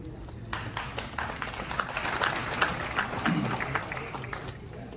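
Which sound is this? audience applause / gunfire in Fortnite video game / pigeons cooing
audience applause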